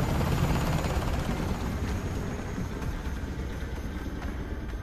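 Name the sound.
helicopters flying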